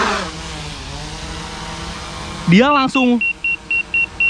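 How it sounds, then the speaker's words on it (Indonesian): The propellers of an Autel Evo 2 drone whine upward in pitch as the motors spin up for takeoff. Short, evenly spaced electronic beeps follow, and someone speaks during the sound. "dengerin suasana propellernya. Dia lumayan cukup hening juga."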